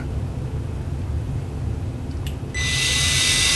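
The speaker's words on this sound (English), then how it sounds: "ensures that you're not going to drill all the way through the headstock" A steady high-pitched drill whine, drilling tuner holes into a 2016 Squier Standard Telecaster guitar headstock, starts partway through and continues loudly to the end, over low mechanical rumble.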